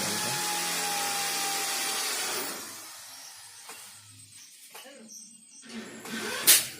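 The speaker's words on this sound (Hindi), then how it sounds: "ये पहले ड्रिल करके उसमें थ्रेड बना देंगे," A power drill bores into a metal electric board to cut a thread for tightening a nut, a steady whir for a couple of seconds followed by scattered clicks and scraping.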